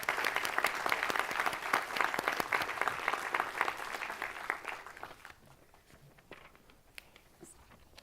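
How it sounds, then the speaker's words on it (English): Dense applause from a symposium audience fills the first five seconds, then fades to scattered claps and a few footsteps in a quieter room. "Let's give him a round of applause."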